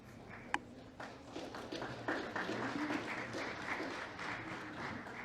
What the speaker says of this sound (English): Another round of applause, please, for a longer time.